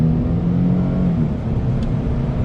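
2017 Nissan Frontier pickup accelerating at full throttle while merging onto a freeway, a loud steady engine drone with a low humming tone heard from inside the cab.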